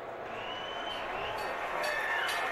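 A baseball crowd at the 2015 NLCS Game 1, Cubs at Mets, cheering and clapping after a Kyle Schwarber two-run home run, a steady roar of applause and shouts that swells slightly toward the end.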